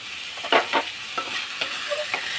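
Potatoes and mixed vegetables fry dry in a pan without water, making a soft, close sizzle with several quick stirring scrapes and no talk.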